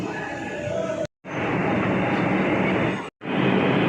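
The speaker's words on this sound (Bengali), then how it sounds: "মেট্রো এসে গেছে আমরা এবার মেট্রোতে উঠে পড়বো" A metro train pulls into a station platform with a loud, steady rumble of wheels and rails that fills the whole clip, broken by two brief cuts.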